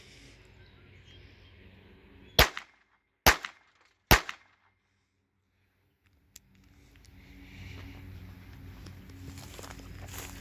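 Three sharp shots from a Beretta 950 BS .25 automatic pocket pistol fired outdoors, evenly spaced about a second apart, followed by a faint click and then low background noise.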